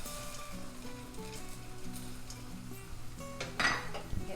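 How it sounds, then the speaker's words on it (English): Frozen vegetables go into a pan of translucent onions cooking in butter, bringing a low sizzle, clinks and knocks of utensils against the pan and a louder burst of hissing near the end, with soft music underneath. "we are going to add our frozen vegetables to let them cook as well."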